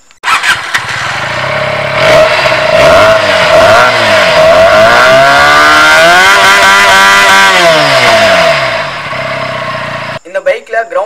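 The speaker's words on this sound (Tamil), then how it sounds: "இதில் புடிச்ச ஒரு எக்ஸாஸ்ட் நோட் ரொம்ப பியூட்டிஃபுல்லாக இருக்குது" Benelli 302R motorcycle engine revving loudly up and down, rising and falling exhaust note sustained for about eight seconds, close and dominant, then cutting off abruptly into brief noise.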